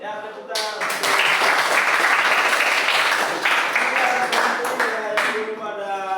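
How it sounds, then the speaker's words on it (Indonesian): Classroom students break into loud, sustained clapping after a short spoken lead-in, the applause swelling quickly and tapering off near the end as a voice resumes. "tepuk tangan"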